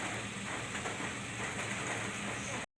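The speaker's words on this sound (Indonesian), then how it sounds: "Ya, ini hujan-hujan nih ya." Steady rain pours down outdoors, a dense even hiss that fills the space without a break, then cuts off suddenly at the end.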